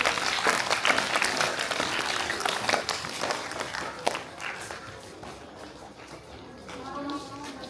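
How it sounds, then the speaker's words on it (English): Loud, dense applause from a school audience at a Founders Day celebration, sustained clapping that gradually thins and fades over several seconds, with faint voices mixed in. "Please clap loudly to motivate them."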